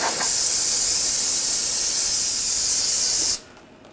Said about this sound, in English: clean up any excess with some brake parts cleaner